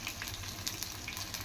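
Garlic cloves, mustard seeds, cumin and broken dried red chillies sizzle in hot oil for a tomato dal tempering, a faint, steady crackle with small pops and a low hum beneath.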